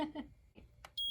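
An Instant Vortex Mini air fryer gives a short electronic beep as it starts, a brief bright tone near the end of the sound, with faint kitchen noise before it.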